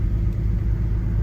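A car rolls slowly through a small town in northern British Columbia, its engine a steady low rumble heard from inside the cabin, loud and continuous with no talking.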